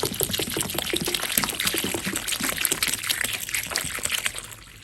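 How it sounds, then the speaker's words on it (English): Water pours from a container onto the soil of an indoor potted giant bird of paradise (Strelitzia nicolai), a close, steady splashing trickle that continues for several seconds with no talk. "So I'm gonna water it now."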